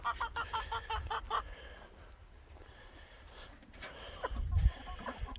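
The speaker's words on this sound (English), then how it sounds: "So we got 3 chickens." Several chickens cluck and squawk in quick bursts at moderate distance, quieting in the middle, with a louder rustle and thump near the end.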